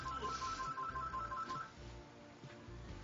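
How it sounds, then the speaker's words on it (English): A mobile phone's electronic ringtone trills in quick alternating beeps for about a second and a half, then cuts off, leaving only a steady thumping music bed. "Please excuse my phone."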